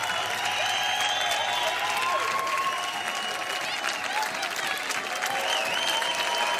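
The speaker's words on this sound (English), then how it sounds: "They're clapping." Steady, dense audience clapping fills the whole stretch, loud and continuous, with faint crowd murmur and occasional voices mixed underneath.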